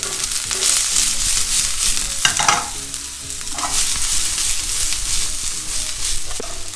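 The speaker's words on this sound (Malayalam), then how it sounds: "പിന്നെ നമുക്ക് കുറച്ച് സവോള ഇട്ട് കൊടുക്കുക." Onion, garlic and chopped green chili frying in oil in a pan for chicken spring roll filling, a steady loud sizzle with occasional stirring scrapes throughout, no talking.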